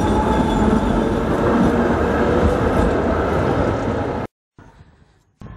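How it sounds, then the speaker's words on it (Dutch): An old tram on line 19 rumbles past close by, a loud continuous rail roar with rattling wheels that holds for about four seconds before cutting off abruptly. "En de tram 19, zo'n hele oude."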